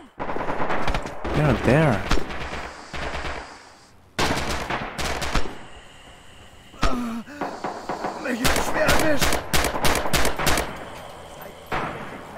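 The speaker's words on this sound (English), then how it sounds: "Totally useless shooting." Bursts of machine gun fire in the video game Red Orchestra 2 come in several rapid clusters separated by brief lulls, loud and close, with a player speaking briefly between volleys.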